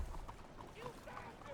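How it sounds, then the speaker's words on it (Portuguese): Hooves clip-clop faintly as a horse-drawn wagon approaches in Red Dead Redemption 2, a soft uneven trotting rhythm heard at a distance with a voice faintly present beneath it. "Eita, vem o cara de carroça aí já me incomodar."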